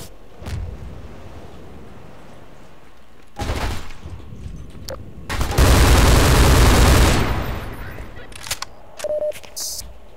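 Gunfire striking the player in Half-Life 2, a few sharp isolated shots and then a loud sustained burst of fire, with a voice reacting over part of it.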